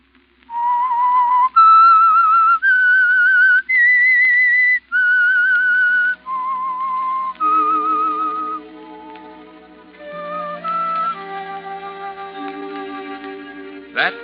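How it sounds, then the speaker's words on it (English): A whistled melody, the signature signal of the radio drama The Whistler, carries clear sustained notes with several held phrases, and an orchestra joins underneath in the second half. "That whistle is your signal for the Signal Oil program, The Whistler."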